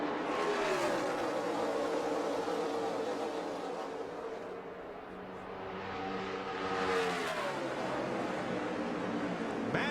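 NASCAR stock cars at the 2015 Coca-Cola 600 roaring off at the green flag, a dense wall of engine noise that dips briefly as the pack sweeps past, then swells again.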